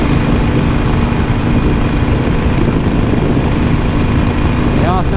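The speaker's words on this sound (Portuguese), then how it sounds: "Mas está muito bom para andar de moto." A motorcycle engine drones steadily while riding on a foggy, chilly road, a constant rumbling hum under wind noise with a voice talking over it.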